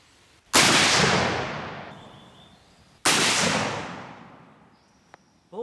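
A 1942 Mosin Nagant WWII Russian battle rifle fires military surplus ammunition, two loud, sharp shots about two and a half seconds apart, each followed by a long decaying echo outdoors.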